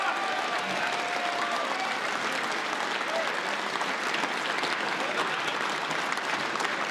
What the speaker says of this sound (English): He's taking all the applause. All the audience still clapping him.